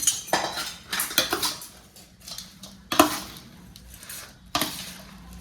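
A spoon scraping and clinking in a bowl while homemade green chilli pickle is mixed with oil, with sharp metallic taps at irregular intervals between softer wet stirring and scraping.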